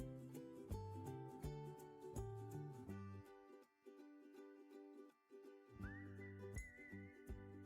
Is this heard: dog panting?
no